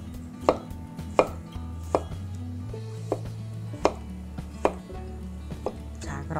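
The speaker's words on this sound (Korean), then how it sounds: "양송이는 편으로 썰어서 준비해 볼게요" A knife slices button mushrooms on a cutting board in a cooking class, sharp irregular thuds that repeat about once a second, close and clear over a quiet room.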